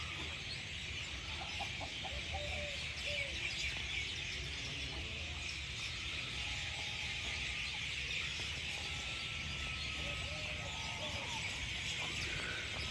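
Assorted pigeon and peacock calls, chirps and clucks scattered over a steady hiss of outdoor ambience, with birds calling near and far throughout.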